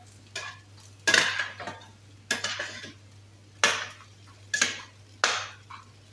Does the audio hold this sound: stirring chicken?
yes